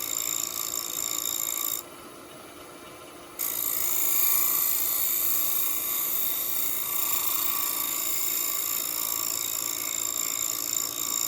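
A half inch scraper rasps steadily against a wooden piece spinning on a lathe, a continuous whirring scrape that drops out briefly near the start before resuming at the same level.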